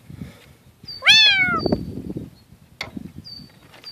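A blue-eyed kitten meows once loudly at close range, a rising and falling harmonic cry, with a few faint chirps and soft rustling outdoors around it.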